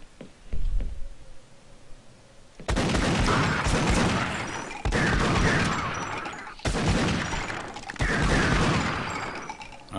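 Gunfire in the video game Sven Co-op: a few scattered shots, then long bursts of rapid automatic fire in four roughly two-second strings separated by brief gaps, loud and close, with no talk over it.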